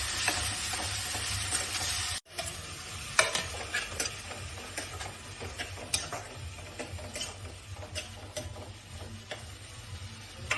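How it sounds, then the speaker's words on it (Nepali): Grated onion, tomato and garlic frying in a pan for a pork dish, a steady close sizzle with clicking stirs and utensil taps throughout after a brief cut near the start. "प्याज टमाटर ग्रेट गरेको छु, त्यसलाई चाहिँ मैले यहाँ हालेँ।"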